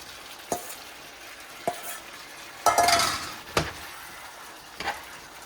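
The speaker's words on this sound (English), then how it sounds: "Now I'm just going to add the beef." Beef dropped into a hot pan for Jamaican peppered steak, a burst of sizzling frying with a few sharp utensil clinks and scrapes around it, close and moderately loud.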